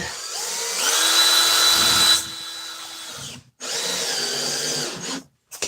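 A power drill whines loudly in two bursts separated by a short pause, the motor pitch shifting as it drives in, then a brief final buzz.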